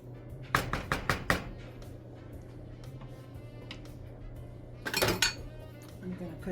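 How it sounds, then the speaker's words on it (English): Metal spoon scraping and knocking against a pot while meat sauce is stirred on a stove, a quick burst of clinks followed by a second cluster a few seconds later, over a steady kitchen hum. "give it a good stir"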